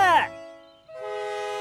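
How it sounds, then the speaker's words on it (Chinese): A cartoon train speeding along railway tracks gives a short, bright toot of its horn, then a sustained whistle-like tone rings out steadily. "沿着布鲁斯小镇的铁轨，斯普奇在路上飞驰"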